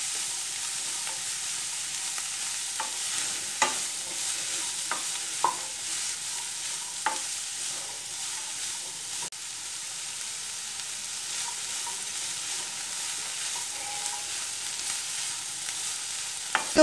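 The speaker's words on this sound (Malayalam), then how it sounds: "ഇതൊന്ന് ഒരു 3-4 മിനിറ്റ് ഒന്ന് വാട്ടിയെടുക്കണം. അതായത് സവാള ഒന്ന് വാടി വരുന്നതാണ് അതിൻ്റെ പരുവം." Onions and bitter gourd sauteing with turmeric in a pan for pavakka curry, a soft steady sizzle with occasional light stirring clicks spaced through the cooking, no voices.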